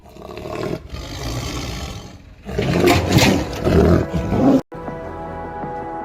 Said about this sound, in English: This rare Amur tiger was relocated after preying on village dogs.